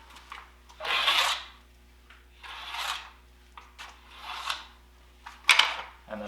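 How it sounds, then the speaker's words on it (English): A groove scraper scrapes glide wax from the groove of a cross-country ski, four or five distinct rasping strokes about a second apart, close and fairly quiet with short pauses between. "Start out with the groove scraper, rotating it to get the edges of the groove."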